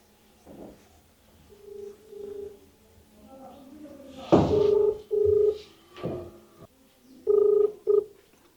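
A telephone rings in short repeated bursts, each ring a brief steady tone separated by gaps, with voices and other sounds of a comic scene in between.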